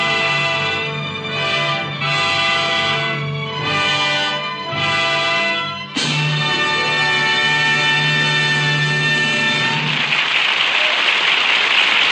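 A Hollywood studio audience applauding actress Agnes Moorehead, loud sustained clapping from a large crowd under a swelling orchestral music cue that continues throughout.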